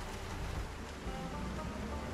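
Heavy rain pours steadily in Project Zomboid, a dense, continuous broadband hiss with a low rumble, quiet and unbroken, with no voices.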